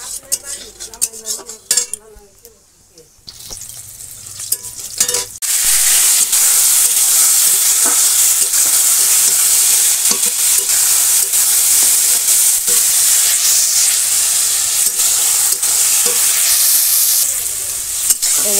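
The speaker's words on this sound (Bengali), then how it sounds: "আর তেলের পরে জিরে দিয়ে দিলাম" In a village kitchen, cumin seeds hit hot oil in a pan. Scattered clinks and clatter come first, then a loud, steady sizzle bursts up and holds to the end.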